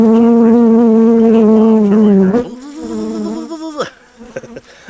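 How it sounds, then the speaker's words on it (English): Loud, close buzzing of bees around a hive, right at the microphone, with a steady droning tone that wavers and dips as insects fly near, then continues more unevenly. "I'm sure all you're hearing is buzzy while I'm doing all this recording."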